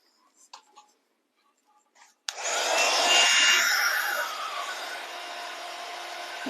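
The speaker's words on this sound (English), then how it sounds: "Let my heat tool warm up first of all." A craft embossing heat tool switches on abruptly after a few faint rustles, then blows a loud, steady airy whoosh with a high whine that holds without a break.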